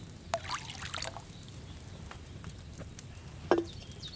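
In the video game Kingdom Come Deliverance 2, wine is poured into a cauldron: a brief, soft, splashy trickle near the start, then quiet, then a sharp clink near the end.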